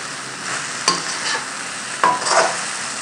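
Okra with masala is stirred in a frying pan over a constant bright sizzle, with two sharp spoon taps against the pan and scraping strokes between them.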